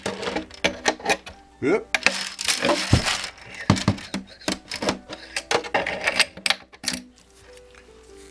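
Sheetrock screws rattle and clatter inside a steel Honda motorcycle fuel tank as it is shaken, in a series of irregular metallic bursts close by, with someone speaking briefly between shakes.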